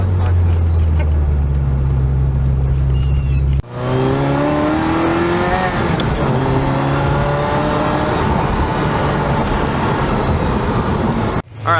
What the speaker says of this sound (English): we're parking the Ferrari back in the garage